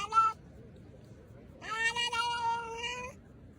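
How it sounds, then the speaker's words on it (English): A cat gives a short strained cry, then after a pause a longer harsh, warbling, eerie yowl that sounds almost possessed, fairly quiet and heard alone. "Number 5. Possessed cat."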